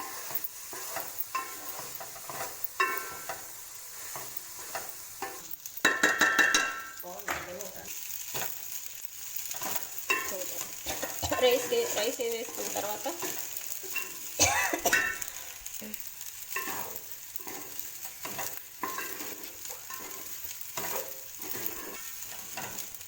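Coriander rice being stirred and fried in a pan, with a steady sizzle, repeated scraping and clinking of a utensil against the pan, and a few louder bursts of stirring partway through.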